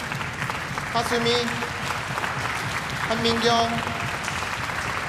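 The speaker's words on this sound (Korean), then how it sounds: "다시 한번 큰 박수 보내주시기 바랍니다" An audience at a Yeungnam University College of Music concerto night claps for the graduates, steady applause running beneath a voice reading out names.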